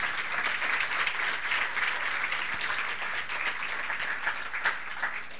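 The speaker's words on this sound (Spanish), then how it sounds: "démosle un fuerte aplauso a los dos compañeros" Sustained applause from an audience at an educational conference, dense steady clapping filling the room with no pauses throughout.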